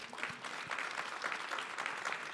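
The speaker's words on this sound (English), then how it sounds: "y'all can clap for that." Scattered clapping from a conference audience during a fireside chat session, fairly quiet and somewhat distant, a short uneven patter of hands lasting a couple of seconds.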